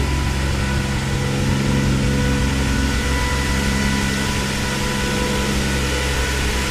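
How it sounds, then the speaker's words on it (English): Steady, loud whooshing roar of electric radiator cooling fans in a Nissan 300ZX Z32 with a swapped RB26DETT engine, running close by, unchanging for several seconds, with a low motor hum and no voices. "So that fan's pretty loud."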